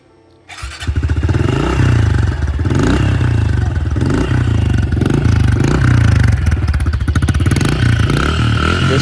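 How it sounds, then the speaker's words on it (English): A Honda 110cc fuel-injected dirt bike cold-starts with a brief crank, then settles into a loud, close, steady single-cylinder idle, with a couple of rhythmic rev swells and mechanical clatter throughout. "Now here's a cold start of the Honda 110."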